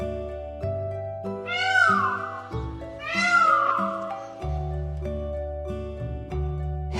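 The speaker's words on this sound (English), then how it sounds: "Peacock." Two drawn-out, wailing peacock calls rise and fall over background music, each loud and close, separated by a short gap.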